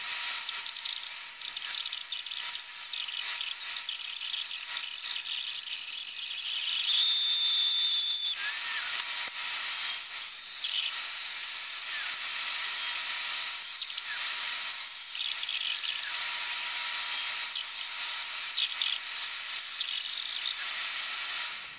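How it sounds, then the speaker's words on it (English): A small saw, likely a scroll saw, cuts through three glued-together wooden pieces with a pattern glued on top, giving a steady high buzzing hiss that runs continuously throughout with no talking. "Now I'm going to try to cut through all three pieces, but avoid cutting this line."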